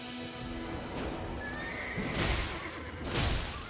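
A horse in the video game Elden Ring whinnies in a drawn-out neigh, followed by bursts of movement and hoof clatter, fairly close and alone without speech.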